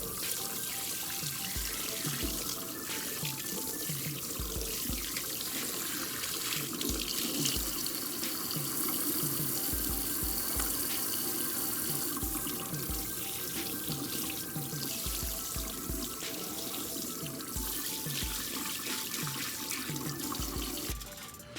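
Kitchen tap water runs steadily while a whole piece of salmon is washed under it, a continuous close splashing stream with small shifts as the fish is moved, no talk over it.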